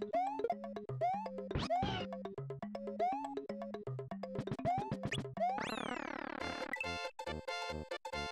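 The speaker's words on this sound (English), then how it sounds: "Someone meowing?" Synthesized cat meows in a Super Mario World ROM hack, a run of short rising and falling chirpy cries mixed with bouncy chiptune game music and effects.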